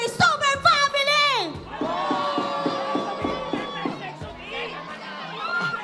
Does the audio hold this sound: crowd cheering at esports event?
yes